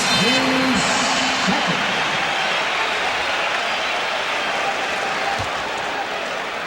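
Mocking applause ripples through the arena crowd at a 1989 Detroit Pistons–Chicago Bulls conference finals basketball game, a dense, steady wash of clapping and crowd noise with a few brief whistle-like tones near the start.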